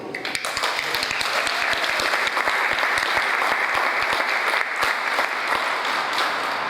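Applause from the audience at the Albany Peace Week kickoff, a full, sustained round of clapping with crisp individual hand claps throughout, loud and continuous.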